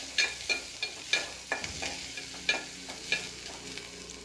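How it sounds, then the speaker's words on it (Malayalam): Onions being stirred in a pan with green chillies and curry leaves, a spatula scraping in steady repeated strokes over a soft sizzle, close and fairly quiet with no talk. "അരിഞ്ഞ് വെച്ചിരുന്ന പച്ചമുളകും കറിവേപ്പിലയും കൂടി ഇട്ട് കൊടുത്ത് നന്നായിട്ടൊന്ന് ഇളക്കി കൊടുക്കാം"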